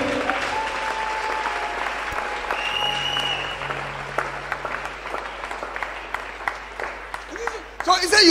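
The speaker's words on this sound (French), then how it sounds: "Acclame bien." A church congregation at a fasting and prayer service applauds steadily, the clapping loud and continuous and thinning toward the end, with a voice speaking over it.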